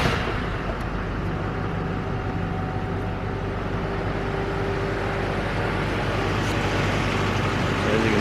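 A 2004 GMC Sierra pickup engine turning over on jumped batteries and catching, a steady loud low rumble with a faint whine running through the whole stretch.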